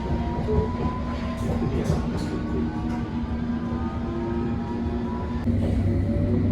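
A London Underground District Line train runs underway with a steady low rumble, faint rail clatter and thin tonal whines, heard from inside a carriage at moderate level without speech.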